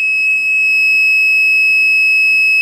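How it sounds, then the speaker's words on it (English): A loud, continuous high-pitched piezo buzzer alarm from a simple electronic trip wire sounds steadily without pause, a piercing electronic tone holding at one pitch throughout. "The piezo buzzer goes off."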